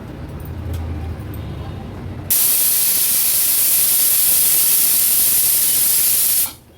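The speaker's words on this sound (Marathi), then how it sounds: "आता कुकरचं झाकण लावून घेऊया आणि तीन शिट्ट्या काढून घेणार आहोत आपण" A pressure cooker whistle releases steam as a loud, steady hiss that starts abruptly after a quieter stretch, holds for about four seconds, then cuts off.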